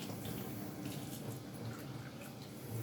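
Water trickles steadily onto a felt hat being wet down for felting, a continuous close splashing wash with no pauses and no voices.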